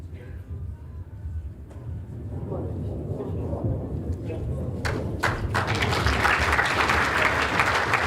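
Indoor bowls crowd at a world championship final applauding, the clapping building from a low murmur into steady, fairly loud applause that fills the hall toward the end.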